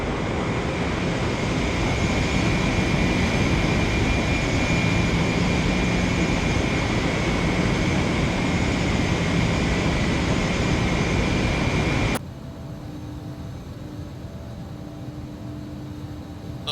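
A jet airliner's engines drone steadily in the X-Plane 12 flight simulator, a loud broad roar with a high whine that cuts abruptly to a quieter, duller hum near the end.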